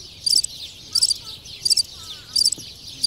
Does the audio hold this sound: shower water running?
no